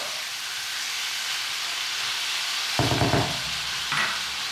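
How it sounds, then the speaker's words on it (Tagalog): Pork sautés in a pan for Filipino pork menudo, a steady hiss of frying with a louder burst of stirring and scraping near the end. "Itutuloy ko lang ang pag-isa hanggang sa mag-light brown na yung kulay ng outer part ng pork."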